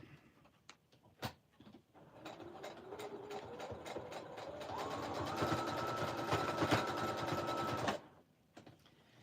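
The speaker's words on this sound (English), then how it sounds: "I'm gonna have to go around it and sew these little edges down." A sewing machine stitches through tattered quilt material, a dense rapid motor whir that speeds up and holds steady for several seconds before stopping, framed by a few scattered clicks and knocks.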